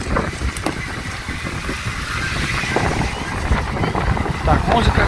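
Strong wind buffeting the microphone on a beach at Lazarevskoye in Sochi, a loud continuous rumbling gust that swells toward the end, with a voice faintly under it.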